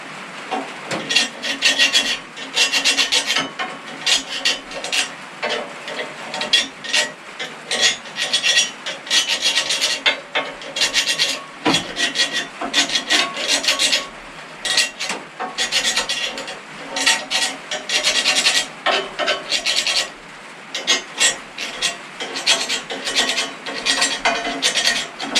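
A screwdriver scrapes out the holes of a wood burning furnace grate, making close, loud, gritty rasping strokes in uneven bursts with brief pauses between them.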